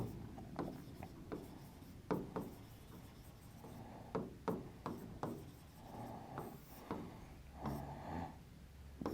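Chalk or marker scratches across a board during an abstract algebra lecture, making short, irregular strokes and taps close by and fairly faint, with no talking.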